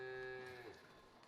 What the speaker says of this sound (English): There's a lot of cows and sheep on the on the road.